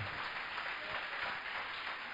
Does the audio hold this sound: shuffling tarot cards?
no